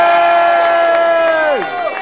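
Wedding guests at an evening dancing reception raise a loud, sustained cheer that swells together and then drops off near the end, with no distinct clapping standing out.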